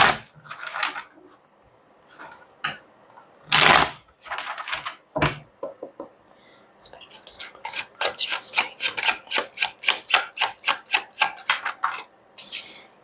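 Tarot cards being shuffled and riffled in the hands, with scattered rubs and flicks early on building into a quick, steady run of crisp card snaps toward the end, fairly close, with no voices.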